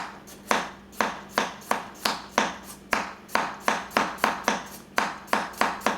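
A Takeda stainless clad large Nakiri knife chops through onion and celery on a board, a fast, even run of crisp close chops, each a sharp thud with a short crunch.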